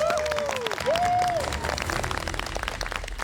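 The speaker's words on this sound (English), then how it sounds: "Come on, give yourselves a round of applause" MasterChef contestants in the top 10 applaud themselves, a steady wash of clapping from a small group with a few voices and a whistle-like tone over it near the start.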